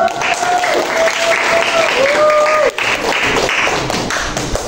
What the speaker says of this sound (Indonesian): Luar biasa untuk kelas kita hari ini, kita beri aplaus.